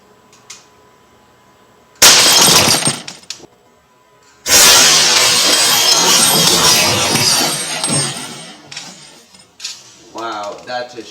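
A glass target shatters when hit by a shot from an Umarex Beretta APX .177 air pistol, a sharp crack followed by a long crashing spray of breaking glass, with some faint handling noise afterward.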